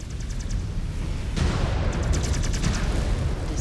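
Mech weapons fire in MechWarrior 5: Clans, a dense volley of booming blasts and crackling impacts that keeps up without pause, loud and close, with a sharper burst of shots midway.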